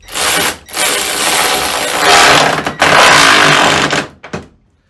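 A Ryobi One+ 18V cordless ratchet whirs loudly as it drives a nut down, running in long sustained bursts with brief pauses before stalling, the motor cutting out near the end.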